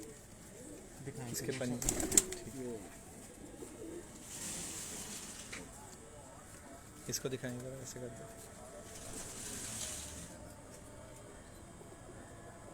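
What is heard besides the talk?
pigeons cooing on a rooftop loft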